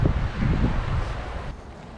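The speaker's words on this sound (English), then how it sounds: "the wind is quite chilly" Wind gusts across a microphone on a riverside walking trail along the Credit River, as strong, rumbling buffeting that eases toward the end. No one speaks.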